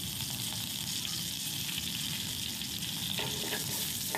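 Vadagam seasoning sautés in a hot pan with a continuous soft sizzle and stirring scrapes, fairly faint and without voices.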